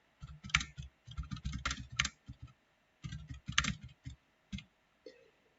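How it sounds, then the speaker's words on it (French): A computer keyboard is typed on in short bursts of quick clicking keystrokes separated by brief pauses, heard close and quiet with no voices. "On peut utiliser son clavier d'ordinateur."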